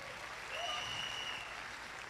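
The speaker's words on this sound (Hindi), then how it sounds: "जोरदार ताली हमारे स्पॉन्सर।" Loud applause for the sponsors fills a hall at an Amway speaker's event, a dense, sustained clapping from a large audience with a thin whistling tone briefly rising above it.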